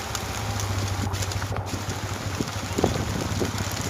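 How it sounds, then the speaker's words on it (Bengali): Heavy rain falls on a rural road beside open fields, a dense steady hiss close by with a low rumble underneath, continuous and without talking. "এত বৃষ্টি হচ্ছে।"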